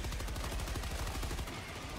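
Rapid automatic gunfire in the video game Helldivers 2, a loud continuous burst of evenly spaced shots close up that thins out briefly near the end; no talking.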